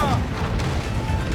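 Ship cannons firing in Assassin's Creed 4 Black Flag, a pirate naval battle video game: loud, continuous low booming and rumbling of a broadside barrage, dense and close, with a voice briefly shouting over it.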